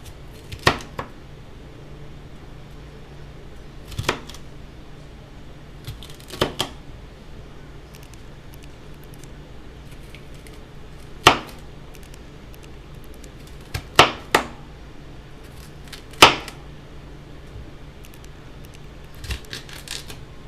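A knife dices vegetables for kabobs on a cutting board, giving sparse, sharp chopping strikes spaced a few seconds apart, some in quick pairs, close to the microphone over a steady low room hum with no speech.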